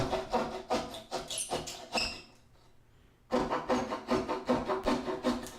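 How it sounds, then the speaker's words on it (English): A keyhole saw cuts a hole in wood for a dance pad replica, making quick rhythmic rasping strokes up close, then a short pause before the sawing resumes at the same pace. "finish up the edge finish with the keyhole saw"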